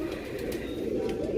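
Soft, low cooing from an old-breed Sialkoti desi pigeon, a steady murmuring coo that runs through the whole moment at close range, with no voices over it.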